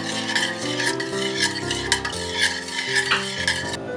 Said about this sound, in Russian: Хорошо размешиваем, чтобы он растаял.